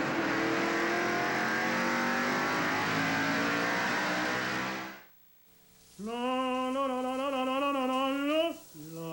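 NASCAR Super Trucks roar past on a 1995 race track, a dense wall of engine noise that fades out, then a single truck revs up loudly with rising, shifting pitch.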